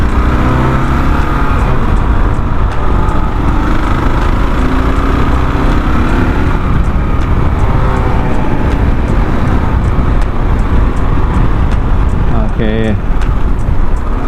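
A 2022 Kawasaki KLR650 dual-sport motorcycle with its 652cc single-cylinder engine runs loud and close, a continuous rough, throbbing drone with steady vibration throughout.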